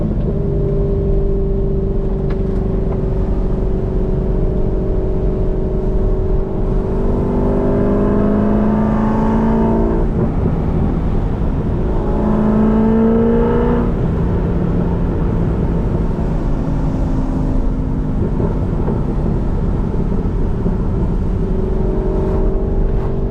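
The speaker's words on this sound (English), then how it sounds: "Oh, this car just wants to rev." A cammed C5 Corvette V8 with a six-speed manual revs and pulls while driving in the rain, loud and close from inside the car, pitch sweeping up through the gears with a lumpy idle-like drone between pulls.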